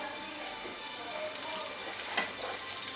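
Thoothuvalai greens sauté in a hot pan, a steady close sizzle of frying with light scraping and stirring clicks scattered through it, no voices.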